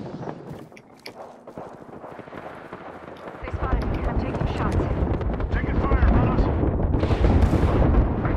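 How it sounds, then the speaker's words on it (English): Airstrike explosions rain down in Apex Legends, starting as scattered crackling hits, then swelling after a few seconds into a loud, sustained roar of blasts that grows and persists to the end, with game voices mixed in. "Heads up, we got an airstrike on us."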